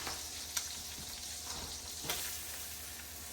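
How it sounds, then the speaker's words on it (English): Garlic and shallots sizzle in a pan over turned-down heat, a soft, steady frying hiss broken by a few light stirring clicks. "I don't want to burn my garlic and shallots, but I'm going to go in with those"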